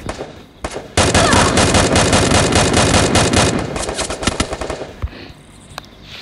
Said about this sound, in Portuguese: Olha isso, o cara tá atirando